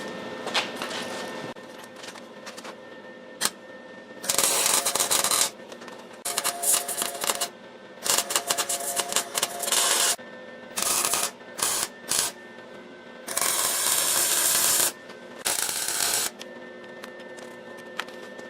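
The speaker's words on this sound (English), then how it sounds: "now I'm going to weld them back together" Reshaped metal pieces of a gas-powered tricycle frame are welded back together, with bursts of loud buzzing, crackling arc lasting one to two seconds each, separated by short pauses, close up and without talk.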